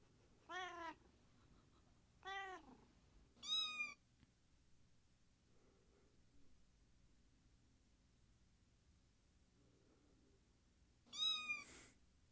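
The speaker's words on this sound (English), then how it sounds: "What kind of a cat is this?" A small cat meows four times in short, separate calls, each clear and close against near silence, with long quiet gaps between the second, third and fourth.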